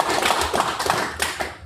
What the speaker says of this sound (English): let's go ahead and give Chris a round of applause for being here with us today